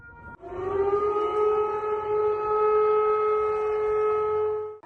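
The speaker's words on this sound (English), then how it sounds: "residents of the capital of the Russian Federation woke up to the sound of an air raid siren." A loud, sustained air raid siren wails over Moscow on a steady droning pitch, rising at the start and holding for several seconds.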